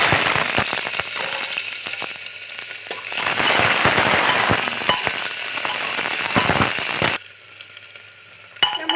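Two chilies and onions fry together in hot oil with a loud, dense crackling sizzle and scattered sharp pops, then the sound suddenly drops to a faint hiss with a few light clinks.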